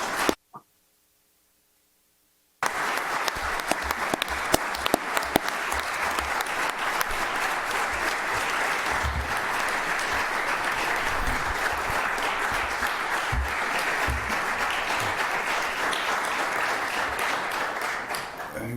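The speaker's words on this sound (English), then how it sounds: "you got quite a round of applause from this room" After a brief silence, a room at the Georgia General Assembly's joint appropriations committee breaks into sustained applause for the governor, steady dense clapping with some sharper close claps, continuing for over fifteen seconds.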